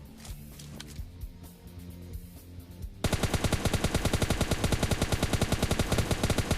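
PUBG Lite video game audio: quieter background music, then loud rapid automatic gunfire bursts in a fast, continuous rhythm.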